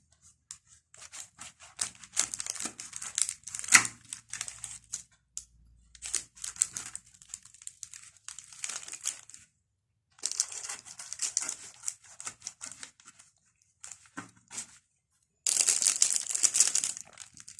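A knife cuts through a baked pink pepper pithivier with a cheese filling, making crisp crunching and crackling bursts of flaky pastry. The bursts come in separate bouts broken by short silences, close and fairly loud, and nobody speaks.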